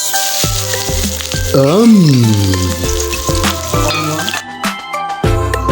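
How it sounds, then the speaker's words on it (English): Chopped onion sizzles loudly in hot oil, crackling steadily while a cooking spoon clinks and scrapes against the pan now and then. "Incorporate your chopped onion at this point so that it sizzles."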